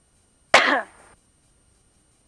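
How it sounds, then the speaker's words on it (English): Coughing in a small airplane cockpit: one loud, close cough burst with a fading tail, then another cough starting at the end, over a steady faint cabin tone. "There's no coughing allowed in this airplane, please."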